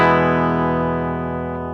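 Electric guitar played through a NUX amp modeler as a reference tone, a single sustained distorted chord ringing out loud and close with a slow decay.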